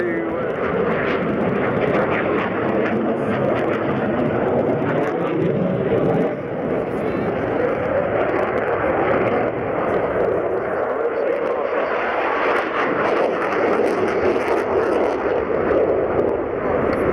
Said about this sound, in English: all highlighting the variable speed range of the aircraft.